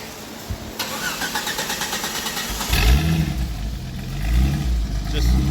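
A Jeep XJ fitted with a new exhaust cranks with a rhythmic starter whir, then fires up and settles into a deep, rumbling idle with slight revs, close and loud.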